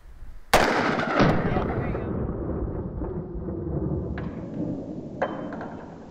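A 9mm pistol fires a single loud, close gunshot into a folding bulletproof shield, a sharp crack followed by a long rumbling echo that fades over several seconds, with another fainter impact a moment later and a light click near the end.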